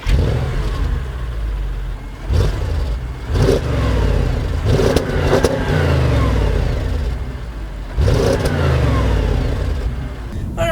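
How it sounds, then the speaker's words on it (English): A 2013 Audi S6 engine starts up loudly by push button and idles with a deep hum, repeatedly rising in brief revs. "hit the engine start button, that starts right up."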